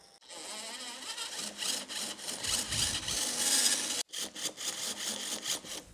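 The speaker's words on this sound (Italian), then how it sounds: "metto l'estrattore che ho utilizzato in precedenza. Sempre con rotazione contraria, quindi a svitare." A screw extractor bit in a reversing drill grinds counterclockwise into a damaged screw, giving a steady, close, rasping whir for about four seconds, a brief break, then renewed bursts of gritty turning.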